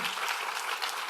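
A short burst of applause at a cancer congress opening ceremony, dense hand clapping from a crowd, fairly even and continuous throughout.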